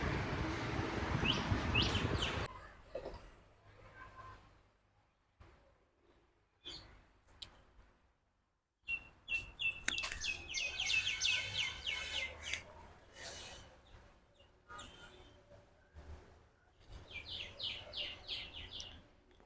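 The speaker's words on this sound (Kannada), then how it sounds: "ಕೋಳಿ ಪಕ್ಷಿಗಳೆಲ್ಲ ಕೂಗ್ತಾ ಇದೆ." Birdsong at a temple at dawn, with chirps and trills that come in bursts at the start and again later, over a low steady background hum and quiet gaps in between.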